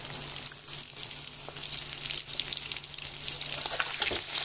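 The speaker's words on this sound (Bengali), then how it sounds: "ডিমের সঙ্গে হালকা করে আবারও ভেজে নেব।" Eggs frying in a pan with dried chillies and onion, a steady close sizzle with soft stirring scrapes throughout, no talking.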